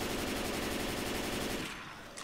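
Rapid automatic gunfire in the Left 4 Dead 2 zombie shooter, a loud, steady burst of shots for about a second and a half that abruptly stops, leaving a brief quieter tail.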